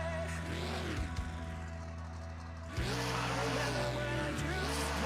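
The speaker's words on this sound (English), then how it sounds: "You can hear the engine getting a little tired" A monster truck engine in the Rigs of Rods driving game revs hard and loud, its pitch sweeping up and down through gear shifts, dropping away briefly near the middle before roaring back up.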